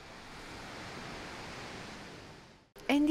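Surf at Praia do Tamariz beach in Estoril, Portugal, a steady broad wash of Atlantic waves rolling for over two seconds, then a brief drop and a sharper, closer burst at the end.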